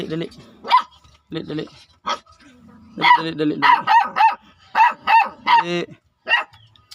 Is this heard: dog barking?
yes